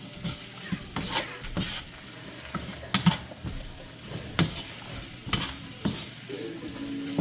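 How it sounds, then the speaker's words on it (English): Rice and peppers being stir-fried in a pan, with a soft sizzle beneath repeated sharp scrapes and clatters of a utensil against the pan at an uneven rhythm. "So you're just gonna stir fry everything."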